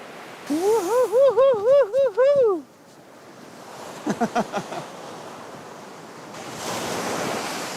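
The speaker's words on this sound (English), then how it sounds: "The sounds of the waves overpowering everything." Ocean waves at Doksan Beach in Samcheok, Korea: a few high, wavering tonal calls come first, then a soft rushing surge of surf swells up near the end, moderately near.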